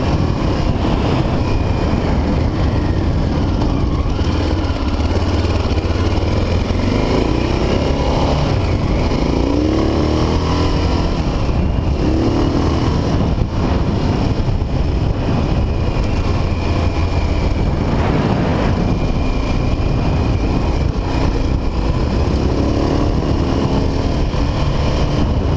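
A 1985 Honda XL600 motorcycle engine being ridden in cold air, a loud continuous single-cylinder drone with rising and falling revs and wind rush, close to the rider, no talk.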